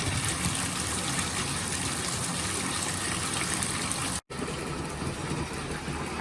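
A hand swishes through bubble-filled bath water in a tub, making a steady, close, rushing slosh that holds nearly constant with one brief break.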